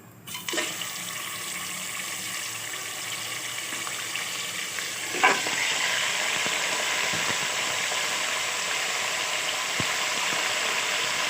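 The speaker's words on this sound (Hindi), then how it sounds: "ऑयल गर्म हो चुका है, इसके अंदर मैं चिकन ऐड कर देती हूँ।" Chicken pieces dropped into hot oil in a karahi, cooked for a charsi chicken karahi, hiss into a steady, loud frying sizzle that swells further midway and holds on without a break, with no talking.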